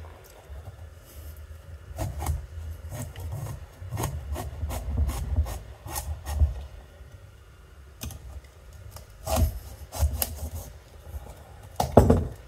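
A knife cutting into a Halloween pumpkin, with a series of close, rough scraping and rasping strokes in uneven bursts, some louder knocks near the end.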